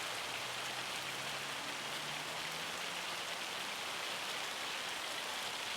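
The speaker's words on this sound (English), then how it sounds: "Heavy rain, a little bit of hail." Heavy rain with a little hail in Farming Simulator 25: a dense, unbroken hiss of downpour that stays loud and even throughout, with no voices.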